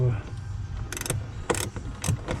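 Ratchet working a bolt off a third-generation Camaro part, several quick bursts of close metallic clicking separated by short pauses over a low background hum.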